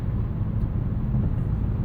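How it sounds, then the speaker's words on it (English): Low, steady tire roar on pavement fills the cabin of a 2026 Dodge Charger Scat Pack sedan with a twin-turbo inline-6, a constant droning rumble with no speech over it. "To go back to these tires again, they are a little bit loud."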